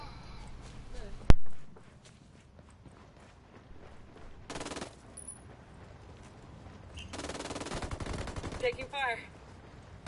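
Gunfire in the video game Ghost Recon Wildlands. One sharp, loud shot rings out near the start, and bursts of automatic fire follow in the middle and toward the end, with footsteps and quieter background sounds between them.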